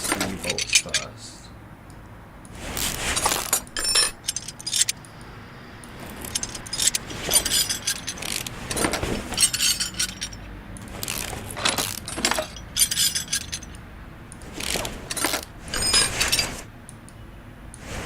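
Bolts being released on a car in Car Mechanic Simulator 2018, heard as a series of sharp metallic clicking and ratcheting bursts in irregular clusters, with a voice talking in places.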